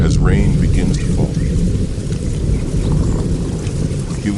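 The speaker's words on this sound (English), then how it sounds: "Thunder growls in the distance as rain begins to fall." Rain falls steadily with a deep, rolling rumble of thunder underneath, loud and continuous.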